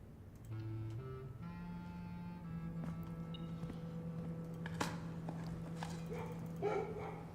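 Short bork-like dog barking effect from a video game, sounding as a few faint, brief synthetic tones over a quiet game soundtrack.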